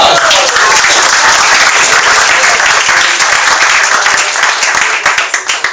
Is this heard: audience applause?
yes